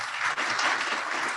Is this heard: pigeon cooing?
no